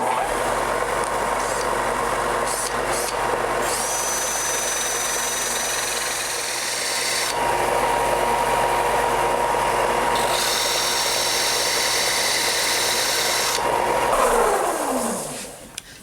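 A wooden topwater lure blank, a Devil's Horse style, spun by hand against a running sanding belt: a steady loud motor-and-belt drone with a brighter grinding hiss that swells and eases in stretches, then the machine spins down at the end.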